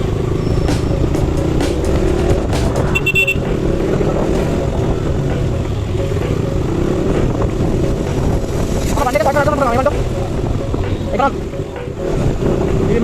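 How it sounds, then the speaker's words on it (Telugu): KTM Duke 200 BS3 motorcycle riding through city traffic, engine and wind rush steady and close throughout, with passing traffic noise and occasional horn-like tones. "స్టార్ట్ అయింది బండి అయితే"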